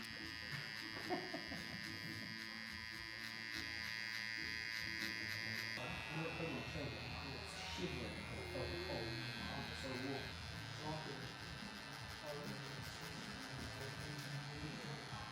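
A tattoo machine buzzes steadily and close throughout, a continuous electric drone under people talking and chatting nearby in a tattoo studio.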